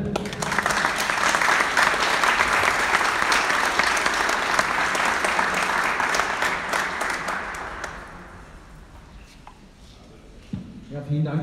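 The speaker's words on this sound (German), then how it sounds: "Bitte begrüßen Sie mit einem großen Applaus den geschäftsführenden Gesellschafter und Gründer der P&P-Gruppe" Audience applause at a foundation stone laying ceremony, a dense, loud wash of clapping from a sizable crowd that fades out gradually, with a voice starting to speak once it dies away.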